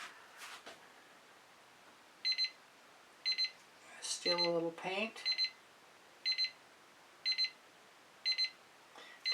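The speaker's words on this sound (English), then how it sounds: "Turn that timer off." A timer alarm goes off during a fluid acrylic painting session, sounding short bursts of high electronic beeps in an evenly spaced repeating pattern, with a person talking briefly in between.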